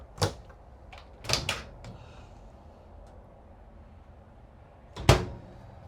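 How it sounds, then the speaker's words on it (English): Drawers in a 2026 Delta Solo RB152 RV shutting without a soft-close, giving three sharp wooden clacks with quiet gaps between them, the last one loudest, and no talking. "The drawers do not soft close."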